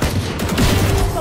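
Gunfire in the Valorant video game, a burst of rapid shots filling the short clip, dense and fairly loud with game sound layered underneath.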